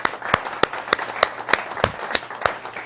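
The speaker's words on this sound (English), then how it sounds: "Everybody give Norma a big round of applause." A small audience at a Board Room gathering claps for Norma, the sharp claps landing in an even, steady rhythm, close and fairly loud, with no one speaking.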